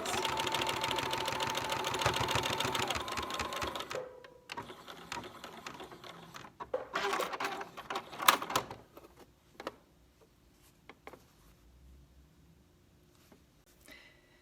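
A sewing machine stitches binding onto an N95 mask in a steady rapid run of about four seconds, then short bursts and stops with handling clicks before quiet.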